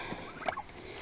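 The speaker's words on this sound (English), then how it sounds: "turkeys, they're in a temporary pen. They are not happy about it" Homestead turkeys in a temporary pen let out a brief gobble, a short burst of warbling calls standing out faintly against quiet background noise.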